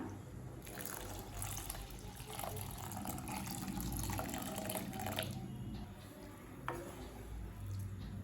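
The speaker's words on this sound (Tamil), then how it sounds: "அடுத்தது இதில் 3 கப் பால் சேர்த்துக்கலாம்." Milk poured into cooked vermicelli for semiya payasam, a soft continuous liquid splash and gurgle, faint and close.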